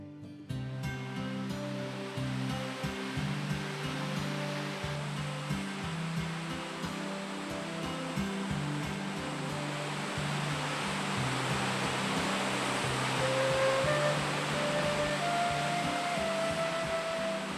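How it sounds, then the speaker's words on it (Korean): Clear, plentiful water of the Hantan River in Gangwon-do flows in a steady, full rushing wash, constant and fairly close, with no voices. "맑고 풍부한 물이 흐르며 만들어내는 한탄강의 또 다른 비경"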